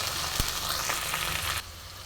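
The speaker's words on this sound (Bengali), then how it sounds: "জিরে আদা আর পেঁয়াজ একসঙ্গে করে আমি বেটে নিয়েছি। তো মশলাটা আমি দিয়ে দিলাম।" A paste of ground cumin, ginger and onion hits hot oil for okra egg curry, a dense close sizzle that runs steady, then abruptly softens near the end; no talking.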